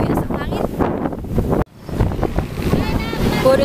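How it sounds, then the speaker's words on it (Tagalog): Strong wind buffets the microphone outdoors during a stopover on a trip to Baler, Aurora, roaring and gusting almost the whole time, with a brief drop-out partway through. People talk underneath it. "Ang hangin."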